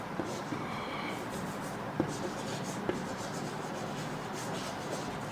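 Pen or chalk writing on a surface during an English grammar lesson, a soft continuous scratching with a few light taps, faint and close, with no talk.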